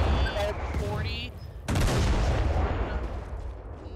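A battleship's main gun fires in the naval warfare game Foxhole, a single heavy boom that erupts abruptly and rolls into a long rumbling decay, preceded by fainter tonal game sounds and a voice.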